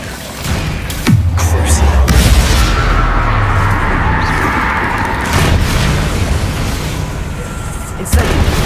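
Bombarda spell explosions in Hogwarts Legacy, with a loud heavy boom that rolls into a long rumbling blast and further thuds, and a brief voice near the start.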